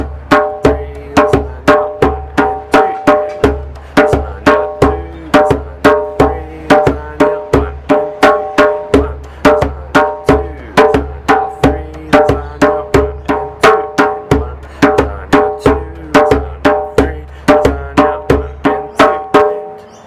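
A djembe plays a steady chorus rhythm pattern, sharp evenly spaced hand strikes mixing bright slaps with deeper bass tones in a repeating cycle, loud and close.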